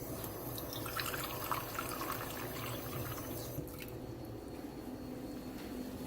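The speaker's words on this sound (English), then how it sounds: "Maybe just a touch more water." Water pours and splashes steadily into a pot of rice pilaf, a soft continuous trickle against low background noise, with no one speaking.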